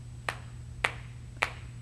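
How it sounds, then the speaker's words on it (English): Three crisp finger snaps, evenly spaced about half a second apart, ring out alone over a steady low hum at the start of a children's virtual storytime. "I'm going to snap my fingers, but you might want to clap your hands, okay?"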